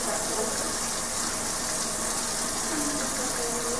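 A sink faucet runs steadily during handwashing, a close, even gush of water pouring into the basin without pause.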